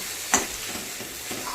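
Flattened rice and fried egg stirred into frying potato and onion in a pan, with a faint steady sizzle, one sharp scrape near the start and a few soft spoon strokes after it.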